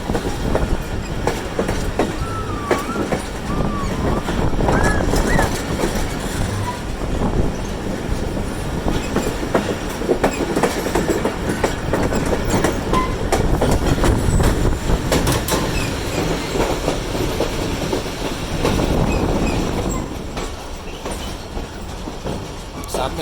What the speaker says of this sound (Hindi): कोटरी यार्ड क्लियर करने के बाद ट्रेन अपनी अच्छी स्पीड में आगे कराची की तरफ बढ़ेगी।